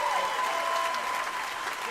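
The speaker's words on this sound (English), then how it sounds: "Let's have a round of applause one more time for Spanky Brown over there, ladies and gentlemen." Comedy club audience at a live stand-up show claps in a fairly soft, even wash of applause that carries on steadily without a break.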